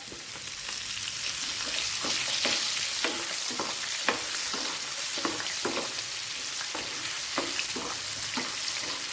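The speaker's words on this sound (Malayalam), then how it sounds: "ചുമന്നുള്ളി നമുക്കൊന്ന് വറുത്തെടുക്കാം" Oil sizzles with a constant bright hiss as shallots fry, while a spatula scrapes and stirs the pan in regular strokes, close and steady throughout.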